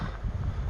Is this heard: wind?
yes